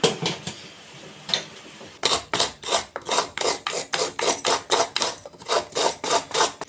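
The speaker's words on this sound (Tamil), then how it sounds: "இப்போ வந்து சர்க்கரைலாம் இடிச்சு வச்சுட்டு தேங்காய்லாம் திருவிடலாம்" Fresh coconut scraped on a kitchen grater for green gram puttu: a quiet start, then a steady run of close, rhythmic rasping strokes about two per second, each a short scratchy burst.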